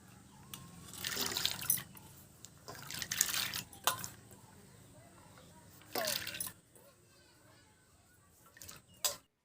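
Soaked chana dal being washed in clean water, with sloshing and splashing in bursts, dripping between them, then a quiet stretch and a final splash.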